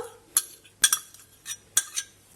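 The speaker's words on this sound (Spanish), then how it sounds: "y mezclamos todo muy bien" Fork mixing tuna, chopped eggs, olives and fried tomato in a bowl, a handful of light metallic clinks and scrapes against the bowl at an uneven pace, close and quiet.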